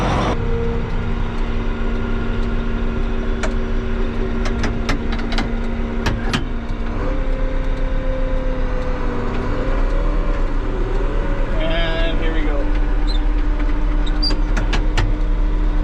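A manual-transmission vehicle pulls away with a steady, close engine rumble whose pitch shifts several times as it works up through the gears, with a few sharp clicks and knocks early on.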